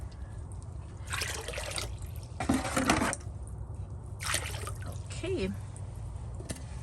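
Water splashes and pours in several short bursts into a bucket, about 5 gallons, with a person speaking briefly between the pours.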